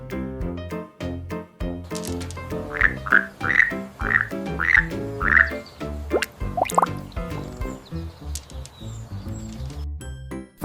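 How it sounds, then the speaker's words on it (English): A cute little frog in a forest animals diorama gives a quick run of about six close, clear croaks over a steady musical background, with a few extra chirps after them. "They make fun ribbit sounds."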